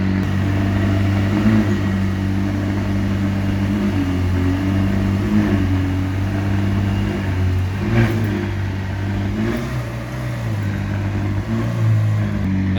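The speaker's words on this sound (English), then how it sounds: "Actually, it's a typical McLaren sound." A McLaren sports car engine rumbles and revs steadily nearby, its deep droning tone rising and falling slightly throughout.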